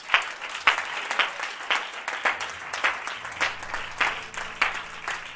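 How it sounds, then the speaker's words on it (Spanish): A church congregation claps steadily in fairly fast, uneven rhythm, the applause sustained at moderate loudness throughout, with a low hum underneath. "le invito que podamos darle un aplauso al Señor"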